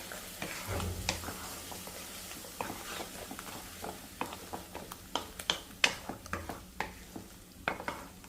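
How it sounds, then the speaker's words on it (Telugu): Mint paste is stirred and fried in a pan for pudina rice: a spoon scrapes and taps against the pan in a quick, uneven rhythm over a faint, steady sizzle, close and fairly quiet. "సో ఇప్పుడు ఈ పేస్ట్ని బాగా కలుపుదాం"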